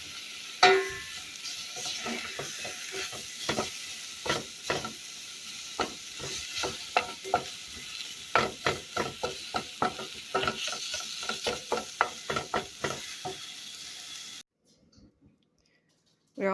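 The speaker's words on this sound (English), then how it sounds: "And now we're just bringing it to a boil. Just try to keep stirring." Mulberry jam heating toward a boil in a pot, stirred continuously with repeated scraping and clicking strokes over a faint bubbling sizzle, ending in sudden silence.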